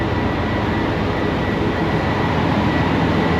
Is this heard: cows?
no